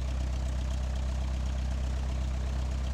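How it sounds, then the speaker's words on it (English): Training airplane engine in Flight Simulator 2018 FlyWings, idling with a steady low throbbing drone, constant and even with no other sounds. "Here, I'll start up the engine."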